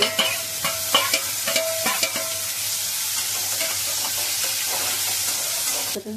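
Chopped chili and tomato stirred and frying in a pan: steady close sizzle with a spatula scraping in irregular strokes, louder at the start and easing off, no talk over it.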